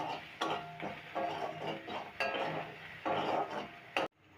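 A spoon scrapes and clinks in a pan in regular strokes, stirring a spiced egg mixture with salt, turmeric, coriander, chilli powder and chopped green chillies, close and moderately loud.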